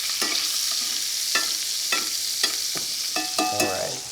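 Halibut sears in a cast iron pan, giving a steady soft sizzle punctuated by several sharp metallic taps and scrapes of a utensil as the fish is flipped.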